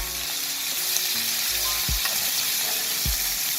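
A pork chop bastes in sizzling butter with crushed garlic, sage and rosemary, crackling steadily up close, with spoon scrapes and splashes breaking in every so often.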